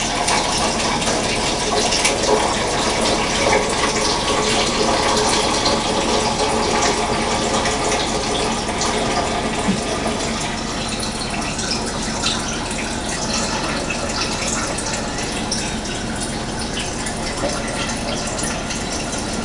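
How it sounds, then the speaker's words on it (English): Water pours steadily into a soup pot in a loud, continuous rushing stream, filling it with no pauses for the whole stretch. "going to add the water."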